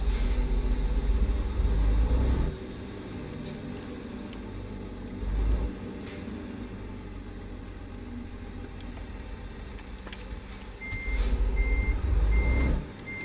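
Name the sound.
truck starting off in the video game American Truck Simulator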